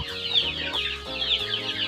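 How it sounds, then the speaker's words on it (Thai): A flock of fighting cocks and native farm chickens clucks continuously and close by, with overlapping busy calls forming a dense, lively chatter. "ก็จะมีไก่หลากหลายครับ ไก่ชนก็รวมกันด้วย ไก่บ้านด้วยนะฮะ"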